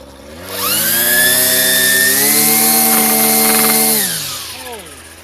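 A Ryobi weed trimmer's small two-stroke engine revs up from idle at about quarter throttle, holds a loud buzzing whine for several seconds, then winds back down to a lower idle.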